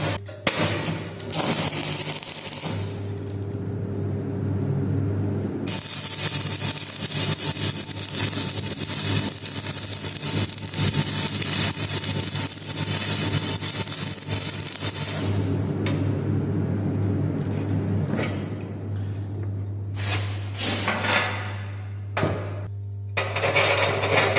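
Electric arc welding with a stick electrode at 60 amps, joining metal in a butt weld: a steady, dense crackling hiss with a low electrical hum running beneath it almost throughout, briefly dropping out near the start and middle.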